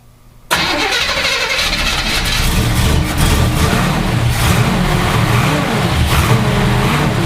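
An old car engine catches after a quiet moment and keeps running loudly and steadily, with a rough, uneven mid-range rumble and a few bursts of revving, close by.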